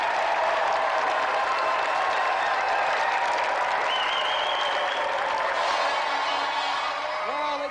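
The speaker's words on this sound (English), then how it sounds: "Let's give another round of applause then for Craig and Kirsty Monroe!" Sustained applause from a studio audience at a games show, dense and steady throughout with some cheering mixed in, tapering slightly at the end.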